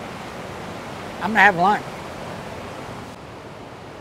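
Creek water flowing steadily in the woods, a soft continuous wash of noise throughout, with someone briefly speaking over it near the middle.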